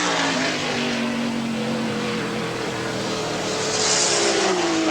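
John Fitzpatrick's race car laps Lime Rock during the 1982 Coca-Cola 400 IMSA Camel GT race, a loud, continuous engine drone with gliding pitch shifts that swells again near the end.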